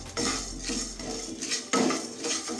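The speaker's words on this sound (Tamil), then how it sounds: "2 டேபிள் ஸ்பூனு வெள்ளை எள்ளு போட்டுடலாம்." Two tablespoons of white sesame seeds are added to a hot tempering pan for tomato thokku, with close, brief metallic clinks of a spoon against the pan and a light rattle, with no talking.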